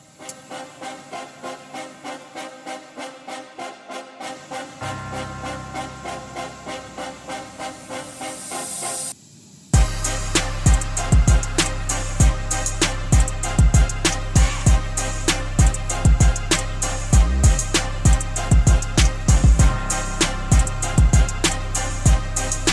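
Pressure-washer water rinsing wheel cleaner off car wheels, a steady hiss that turns into a harsh, close rattling spray pulsing rapidly as the jet hits the wheel, with no talk.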